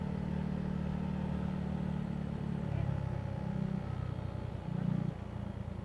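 A motorcycle rides at night along the Zambales–Tarlac road, its engine droning steadily close by with a low, rough hum that swells slightly at moments, and wind rush underneath.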